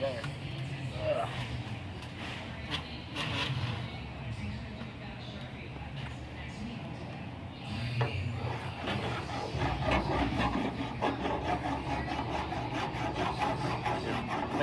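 A hand file rasping over lead body filler on a 1937 Chrysler Imperial, making steady scraping strokes that grow more vigorous partway through, with a voice at times.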